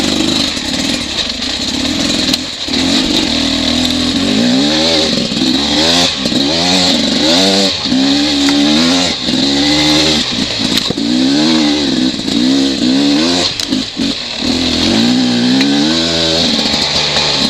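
A Beta 300RR two-stroke dirt bike engine running loud and close throughout a muddy trail ride, with steady rises and falls in revs as the throttle opens and closes.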